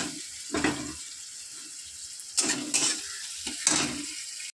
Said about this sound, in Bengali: তো চলো, পেঁয়াজটা একটু ভাজা ভাজা হোক।